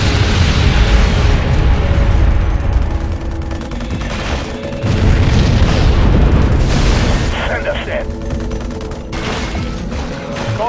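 Bombs explode during a Halo Wars battle on Xbox 360 as a dense, loud barrage of booms and bursts with rumbling blasts, and in-game voices speak over it.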